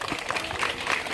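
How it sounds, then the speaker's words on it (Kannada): Crowd applause at a government school celebration in Sandur, steady dense clapping from a gathered audience, moderately loud and continuous throughout. "ಜೋರಾದ ಚಪ್ಪಾಳೆ ಬರಲಿ"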